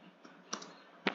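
A few isolated computer keyboard key clicks, quiet and close, with gaps between them: a soft tap early, a sharper click in the middle and another crisp one at the end.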